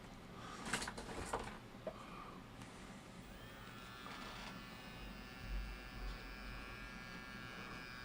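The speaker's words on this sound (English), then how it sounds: "I'm going to hog that out a little bit with my Dremel" A Dremel rotary tool hogs out material with a faint, steady high-pitched whine that settles in after a few knocks and bumps, distant and low in level throughout.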